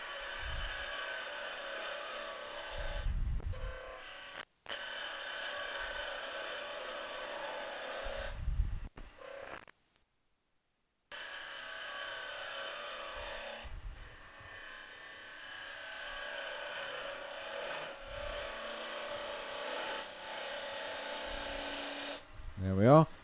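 Wood spindle turning on a lathe, the gouge bevel rubbing against the spinning workpiece, giving a steady rasping hiss that runs almost the whole time, broken by short pauses and a brief silent gap.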